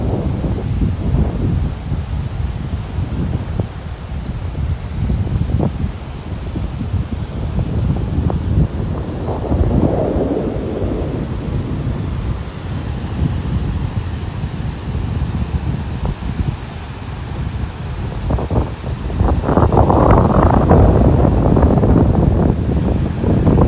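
Strong wind buffets the microphone on a beach in North Naples, Florida, a steady roaring rumble with heavier gusts near the middle and end, and faint surf underneath.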